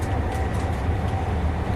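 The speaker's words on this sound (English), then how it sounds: "Okay, the train is very quiet. And here's why. Because it's riding on welded track." Interior of a passenger train in Germany riding smoothly on welded track, a steady low rumble and even hum with no rhythmic clicking of rail joints.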